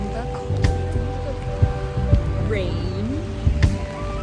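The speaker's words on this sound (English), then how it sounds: "Rain." Rain falling in Birmingham during Storm Eunice, a steady wash of patter on surfaces with scattered louder drops and knocks, over a low outdoor hum with faint background sounds.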